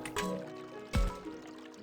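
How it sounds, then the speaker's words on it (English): Babbling brook in the video game Digimon Survive, a soft trickle of running water with a short splashy burst near the middle, faint and heard alone. "If I listen closely, I can hear the sound of a babbling brook."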